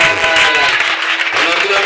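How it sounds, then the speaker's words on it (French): Applause and cheering break out across a church congregation during a French-language sermon, a steady dense wash of clapping with voices mixed in, loud and close throughout. "Quelqu'un a donné une acclamation."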